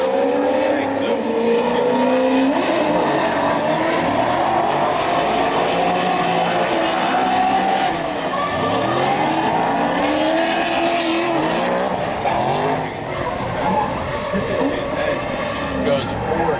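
Corvette and Mustang race cars battling at a Great Lakes Pro Am track event, engines roaring and shifting pitch continuously as they pass, with crowd-level commentary speech layered over the loud racing noise.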